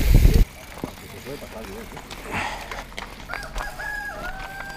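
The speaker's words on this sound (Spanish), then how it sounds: "el gallo." A rooster crows loudly at close range, its rising and falling call carrying over a steady background hum, with people talking nearby.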